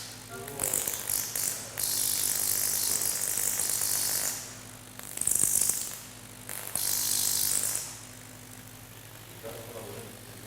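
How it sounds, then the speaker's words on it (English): Tesla coil sparking off the edge of its coil, a harsh broadband crackling hiss in loud bursts of about two seconds each, separated by brief lulls over a steady low electrical hum. "it's starting to spark off the edge of that coil of the side"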